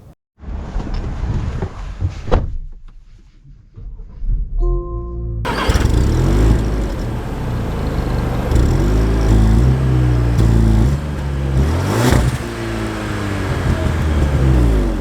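A 2024 Land Rover Discovery SUV fires up with a short starter crank, then settles into a steady engine hum that builds as it pulls away, close and loud with no talking.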